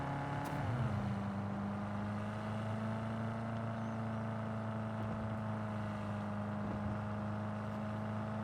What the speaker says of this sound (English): They're great, they're quick, they're a little noisy, but you know, ultimately it's a muscle car.